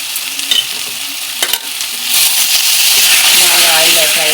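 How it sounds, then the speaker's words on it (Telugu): Drumsticks and tomatoes frying in oil for an egg and drumstick curry, the sizzle growing to a loud, continuous hiss partway through, with a few stirring knocks and a faint tonal sound in the background. "బాగా ఆయిల్ ఫ్రై అయిన తర్వాత కలుపుకొని మగ్గనిచ్చుకోవాలి."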